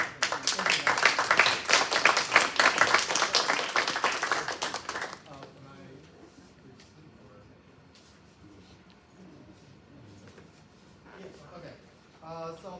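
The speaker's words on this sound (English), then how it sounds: "you deserve a round of applause." A board of education meeting audience claps in a dense burst of applause that lasts about five seconds and then fades, followed by quieter room noise and a little talk.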